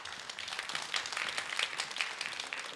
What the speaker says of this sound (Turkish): Alkışlarla başkanımızı uğurluyoruz.